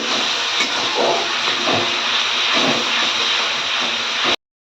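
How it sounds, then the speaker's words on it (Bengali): Cumin, bay leaf, chopped onion, ginger-garlic and tomato paste sautéing together for a Bengali katla fish curry give off a steady, loud sizzling hiss that runs unbroken and then cuts off abruptly near the end. "জিরা তেজপাতা পেঁয়াজ কুচি আদা রসুন টমেটোর পেস্ট একসাথে ভালো করে কষানো হচ্ছে"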